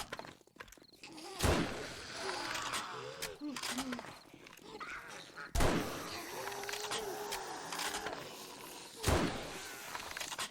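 Rifle fire with 7.62 ammo in 7 Days to Die during a zombie horde night, three loud spaced shots with creature growls and someone talking between them.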